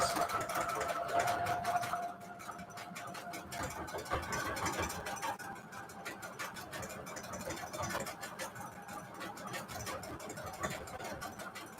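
A home sewing machine runs at a steady, moderate pace while it works decorative fancy stitches on shabby chic bedsheet fabric for notecards. A voice talks at times over the continuous whirring.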